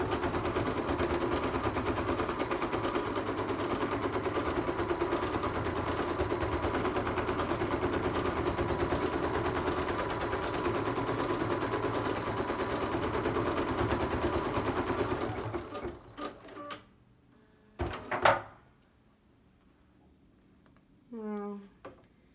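In-the-hoop embroidery machine stitching an applique piece for a bunting banner, a rapid dense mechanical needle rattle for about fifteen seconds, then stopping with a few clicks and faint handling noises.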